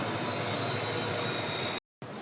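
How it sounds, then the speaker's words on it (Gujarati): A WDG4D diesel locomotive, number 70698 from the ABR shed, hauls the Rajkot-Porbandar Express on an electrified line, giving a steady, fairly distant rumble with a thin high whine, briefly cut out near the end. "આ છે આજનું આપણું લોકોમોટિવ WDG4D ABR શેડનું"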